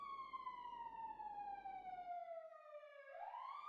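A siren wails steadily outside, its pitch gliding slowly downward over several seconds before sweeping back up, with a low rumble of traffic beneath that drops away partway through.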